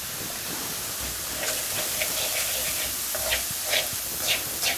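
Churi being roasted in desi ghee in a pan, a constant bright sizzling hiss with soft scraping stirs and occasional crackles over it, close and steady with no talking.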